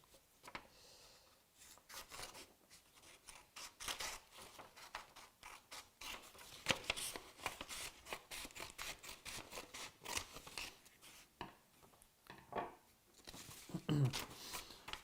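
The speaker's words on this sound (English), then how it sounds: "and then I just need to cut this part off." Scissors snip through a sheet of paper being trimmed to a rough square for a paper snowflake craft, with a steady run of close, crisp cutting and rustling strokes and some faint speech in the background.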